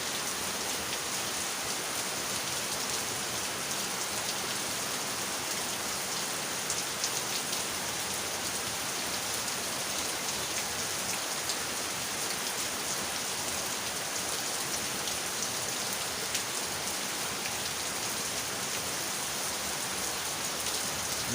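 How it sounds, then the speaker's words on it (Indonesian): Heavy downpour pouring onto a flooded road in Leuwiliang, Bogor, a dense unbroken hiss of rain that stays loud and even throughout, with no speech. "Hujan semakin besar. Jalan raya tergenang air. Sangat deras ya alirannya teman-teman."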